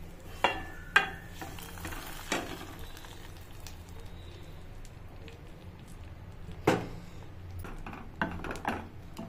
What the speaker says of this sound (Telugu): సరిపడా ఆయిల్ పోసి పోపు దినుసులు వేసేసి 2 వెల్లుల్లి రెబ్బలు అండ్ అలాగే ఎండుమిర్చి కరివేపాకు